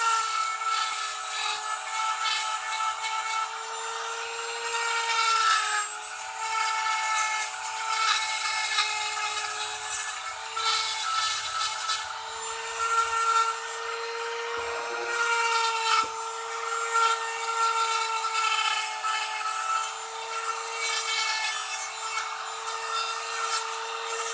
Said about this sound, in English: grind everything down. Just the main edges.